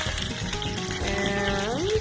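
Tomatoes and serrano peppers frying in a little oil, a steady close sizzle with a faint rising whine near the end, no talking.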